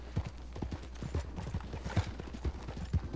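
Horse hooves clip-clop in a quick, regular gallop rhythm in the Red Dead Redemption 2 video game, soft and moderately close, with no talk over them.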